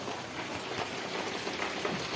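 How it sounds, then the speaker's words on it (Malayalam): Rain falls in a steady, soft hiss of many drops, continuous and fairly faint throughout a brief moment with no voices. "മഴയാണ് ഗൈസ്."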